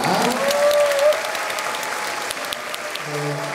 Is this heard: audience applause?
yes